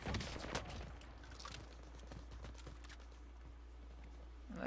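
Bursts of gunfire in the video game Call of Duty Warzone, faint and somewhat distant, with a cluster of sharp shots early on and then a steady low background hum.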